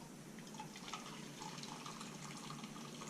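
Hot boiling water, about two cups, pours into a bowl of flour and salt for homemade play dough, making a steady, continuous splashing gush close by without a break.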